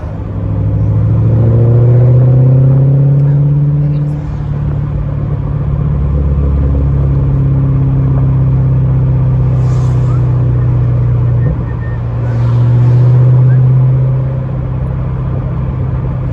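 Motorcycle engine rumbling nearby on a street in Maggie Valley, a loud low throb that rises in two revving swells, with brief voices in the background.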